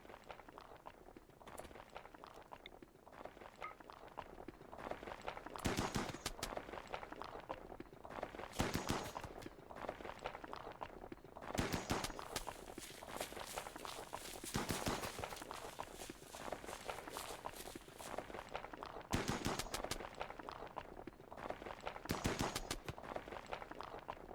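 Gunfire in the colony game Rimworld comes as short, sharp bursts of shots spaced a few seconds apart, moderately loud over a quieter steady background.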